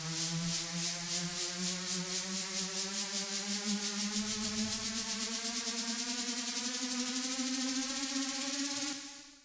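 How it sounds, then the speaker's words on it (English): Drum and bass riser synth with tape emulation, a buzzy harmonic tone gliding steadily upward in pitch with a fast rhythmic vibrato wobble, loud and alone for about nine seconds before stopping abruptly. "It really adds a really crazy kind of pitching vibrato to the whole thing"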